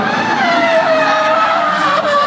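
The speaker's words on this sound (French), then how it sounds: "Et Rohan Van Driel de retour avec ses invités sur l'aire de démonstration avec cette M5 Falcon Drift Team" A BMW M5 drift car from the Falken Drift Team skids on the demonstration area at the 2013 International Motor Show in Luxembourg, giving a loud, continuous tire squeal over steady engine noise, close and sustained throughout.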